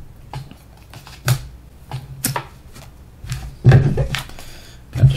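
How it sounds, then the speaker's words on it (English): Cards for the Harry Potter Hogwarts Battle board game are shuffled by hand at a table, giving a string of close, crisp riffles and taps in uneven bursts with a few sharper slaps. "Have to shuffle again."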